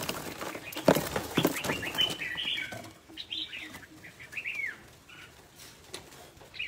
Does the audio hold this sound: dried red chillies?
no